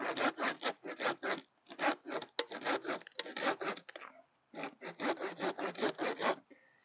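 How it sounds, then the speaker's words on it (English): Repeated back-and-forth strokes of a hand saw cutting through a thorny palm tree leaf stalk during pruning, a steady rasping rhythm in several bursts, close and loud with brief pauses. "I find it easiest just to go sort of here and then just do a nice horizontal cut"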